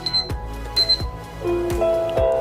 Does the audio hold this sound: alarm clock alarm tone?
yes